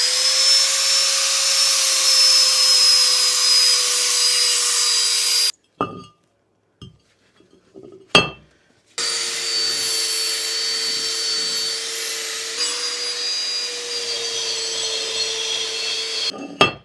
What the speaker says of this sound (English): Just going to use a power file for that.